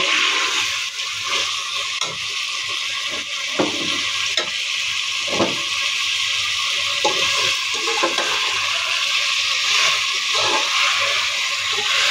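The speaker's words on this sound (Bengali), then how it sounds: "মাংসটাকে মশলার সাথে ভালোভাবে মিনিট 5 কষিয়ে নেব।" Chicken meat frying with spices in a pan, a steady sizzle with repeated scraping stirs of a spatula at irregular intervals, close and clear with no talk.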